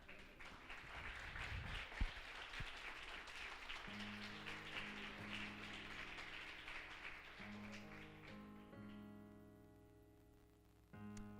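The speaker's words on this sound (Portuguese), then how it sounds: "Agora você pode aplaudir a Deus." A church congregation applauds, a soft diffuse patter of clapping that fades as sustained keyboard chords rise underneath and carry on alone.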